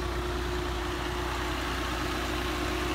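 A Maruti Swift VXi manual petrol car's engine idling, heard close by: a smooth, steady, low hum that stays even throughout with no revving or talk.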